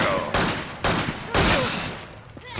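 Gunshots in the video game Resident Evil 5 during a boss fight with Wesker: three or four loud, sharp bursts at roughly half-second intervals, each with a ringing tail.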